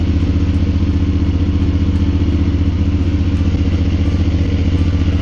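An engine idles steadily to warm its oil before an oil change, a continuous close, even rumble with a faint rhythmic clatter throughout and no talk.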